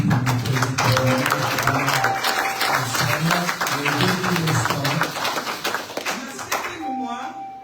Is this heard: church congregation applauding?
yes